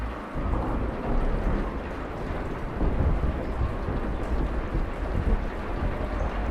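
Thunderstorm in the game Kentucky Route Zero: a steady, dense wash of rain with low rolling thunder rumbling continuously underneath, fairly loud and unbroken, with no voices.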